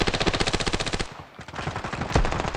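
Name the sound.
shotgun and SMG gunfire in a video game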